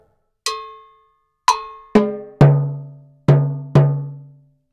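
Slow timbale strokes in a pilón rhythm ring out one at a time: two high metallic hits, then four deeper ringing notes, each decaying before the next, no voices.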